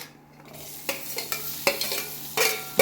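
Onions fry in a pan alongside cooked okra and potatoes, with a gentle sizzle broken by several distinct scraping strokes of a spoon stirring, close and moderately loud.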